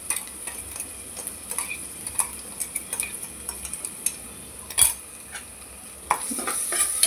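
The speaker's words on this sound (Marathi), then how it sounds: "हे वाटण सुद्धा छान मिक्स करून घ्यायचं।" Ground masala paste being stirred into a cowpea pod curry in a pan, with a spoon scraping and clinking against the metal in soft repeated strokes and a few louder knocks, no talking.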